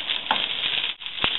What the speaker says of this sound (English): I absolutely love the sound of things frying